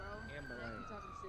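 A wailing emergency siren in GTA 5 sweeps steadily over a dense background rumble, moderately loud and continuous throughout.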